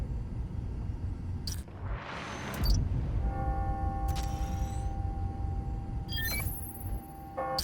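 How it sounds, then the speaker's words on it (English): Clock bells ringing on the hour in the Spider-Man: Miles Morales video game: ringing tones that enter midway, sustain and fade, then strike again later, over a low city rumble with brief whooshes and game effects. "That's it. Ringing on the hour."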